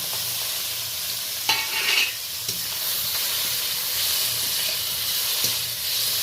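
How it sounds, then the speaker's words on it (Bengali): Salted, turmeric-rubbed shrimp fry in a little oil in a wok, a steady hissing sizzle up close with a few brief bursts of sputtering and stirring clatter, no voices. "এবার আমি কড়াইতে অল্প তেল রয়েছে, ওই তেলেই আমি চিংড়ি মাছগুলো ভেজে নেব।"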